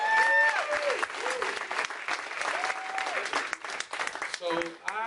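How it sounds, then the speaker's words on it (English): Comedy show audience applauding in a dense burst of clapping, loud at first and then easing slightly, with a sliding tonal whistle or feedback sound over it and a voice briefly audible. "While you're clapping, how about a hand"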